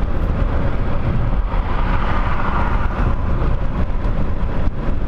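A brand new Subaru WRX running alongside, its engine and road roar a steady, loud broadband rush that holds without pause.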